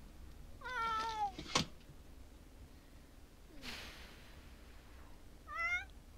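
A cat meows twice indoors at home, a drawn-out wavering call early on and a shorter one near the end, with a sharp click and a soft rustle between them against a quiet room background.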